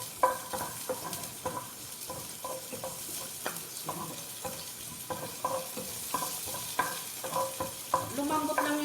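Onions sautéing in a pan while cooking shurbah and sambusa, heard as a steady sizzle with frequent clinks and scrapes of a spoon stirring, fairly close and continuous with no talk.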